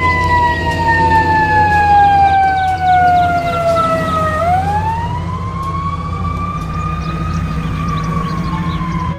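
A loud wailing siren, like a toy ambulance, with tones sliding down, then swooping back up and holding steady, continuous and close.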